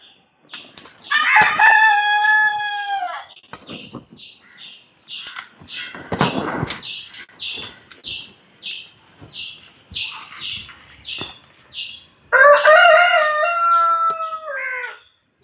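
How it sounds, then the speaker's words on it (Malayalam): Morning rooster crowing, loud crows at the start and again near the end, with scattered clucks, rustling and wing flaps in between. "രാവിലെ ആയ കാരണം കോഴികൾക്ക് ഇത്ര കൂവില്ലേ, നിർത്താണ്ട് കൂവിക്കൊണ്ടേയിരിക്കും"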